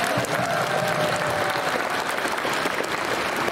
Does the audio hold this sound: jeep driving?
no